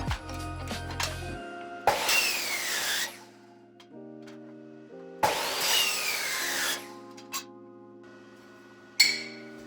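A power tool cuts metal for the feet of an F-350 flatbed service truck. Two harsh cutting passes of about a second each are heard close up, each with a tonal hum from the tool, and a short burst at the end.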